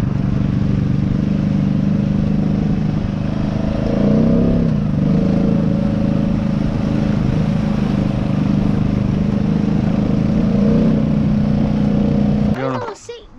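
A Kayo Bull 150 four-wheeler's small engine drones steadily and loudly up close, with rising revs throughout and a sharp throttle blip near the end before it drops off; people talk over it.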